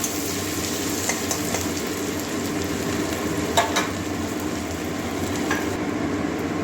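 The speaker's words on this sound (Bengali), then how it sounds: "পেঁয়াজটা ভেজে নেবো" Onion frying in a pan for a Bengali cauliflower fritter curry with egg, a steady loud sizzle with occasional clinks of stirring, heard alone throughout.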